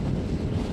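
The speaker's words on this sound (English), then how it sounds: "it's windy" Steady low, rumbling wind buffeting a microphone, loud and constant throughout with no voices.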